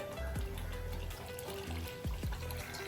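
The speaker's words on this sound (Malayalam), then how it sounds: "അമ്മ 2/2 പാൽ ഒഴിച്ചു കൊടുത്തു." Milk is poured into a pot of parippu payasam, an Onam lentil pudding, in soft trickling bursts heard faintly beneath steady background music.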